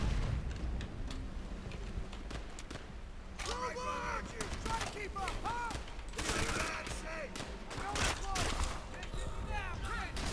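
Repeated rifle shots and distant battle fire in the World War II shooter Call of Duty: World at War, sharp cracks scattered among chaotic combat noise, with in-game voices shouting throughout.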